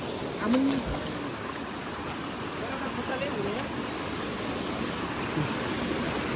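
Continuous broadband rush of the Trishuli river, a flowing mountain stream, fills the clip, steady and moderately loud, with a brief voice or call near the start.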